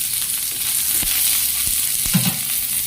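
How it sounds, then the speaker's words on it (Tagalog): Salmon frying in a little cooking oil gives a steady close sizzle, broken by a few light clacks of stirring. "Kunti lang yung mantika kasi yung salmon ay mataba."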